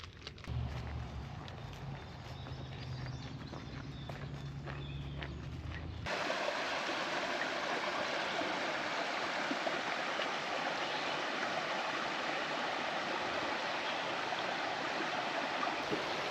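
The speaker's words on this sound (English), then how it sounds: "We just got water from this stream right here" Steady rushing water from a stream in Pennsylvania fills the scene after a few seconds of quieter outdoor rustling and handling noise, constant and fairly close.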